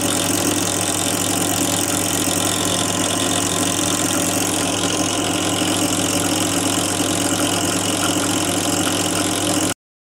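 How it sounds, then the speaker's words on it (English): A Lister D stationary engine runs flat out at top speed, a loud, steady mechanical drone with a rapid even beat that holds unchanged for about ten seconds and then cuts off abruptly. "we've been mainly inside in the warm and given the engine a little run"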